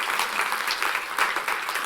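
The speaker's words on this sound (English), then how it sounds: "we've got a round of applause for that, guys." Applause from an audience at a young people's care careers conference, a brief, steady patter of many hands clapping at moderate volume with no voices over it.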